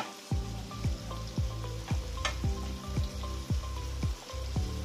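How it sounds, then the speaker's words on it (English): Chopped bell peppers sauté in melted butter over medium-high heat, a steady sizzle broken by repeated stirring scrapes in a loose rhythm, close and fairly loud with no one speaking. "Sauté on medium to high heat for about 5 minutes."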